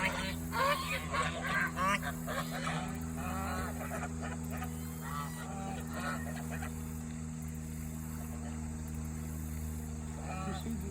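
Geese honking and calling at a campground, a busy run of nasal honks in the first half that thins out later, over a steady low hum, with people talking nearby.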